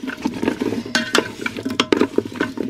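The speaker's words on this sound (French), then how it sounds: "Je touille avant de faire cuire là une gousse d'ail haché et du romarin pour que ça s'imprègne un petit peu partout d'huile d'olive" Chopped garlic and rosemary stirred in olive oil in a pan, close-up clinks and scrapes of a utensil against the pan in a quick irregular rhythm with a soft sizzle beneath.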